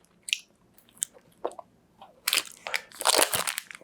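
Someone biting into and chewing a granola bar up close, sharp crunches at first, then a burst of loud, dense crunching and grinding toward the end, with no talking.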